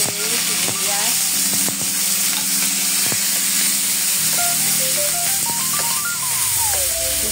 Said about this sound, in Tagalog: nilagay ko na yung bawang, tapos nilagay ko na yung sibuyas.